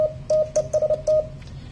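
A Morse keyer's sidetone comes from the rig's internal speaker as a steady electronic beep. Several short and longer tones are keyed in an irregular rhythm, close and clear over a faint background hum.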